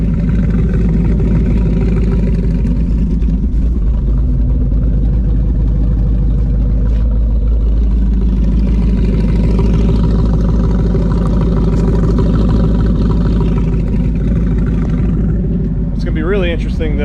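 Car exhaust fitted with Mac mufflers, a deep steady low rumble at idle with a faint rev swell, heard loud and close alongside someone talking.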